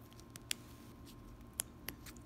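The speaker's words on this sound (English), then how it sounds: "you can cut around the edge with scissors" Scissors snip around the edge of a small, soft Akoya oyster shell, giving a few sharp, quiet clicks spaced apart over a low steady background hum.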